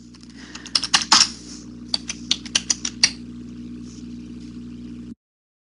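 Keys clatter on a computer keyboard during a live medical coding lecture, a burst of about a dozen sharp clicks in quick irregular rhythm over a steady low hum, then the room goes quiet.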